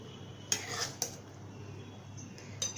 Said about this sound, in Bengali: মাছগুলো এখন আমি সব সুন্দর করে নামিয়ে ফেলবো কড়াইয়ের থেকে